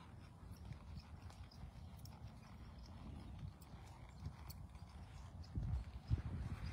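A big, stout plow gelding walks on hard ground, its hooves clip-clopping in a steady, moderately close rhythm, with louder thuds near the end.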